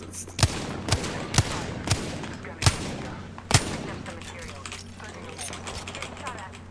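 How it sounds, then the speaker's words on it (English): Video game gunfire in an arena match, with sharp shots cracking at irregular intervals near and loud over a steady background hum, then trailing off into softer mechanical clatter. "Taking fire."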